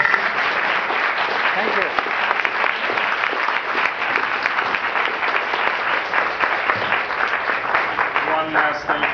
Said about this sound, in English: we have another round of applause for our guests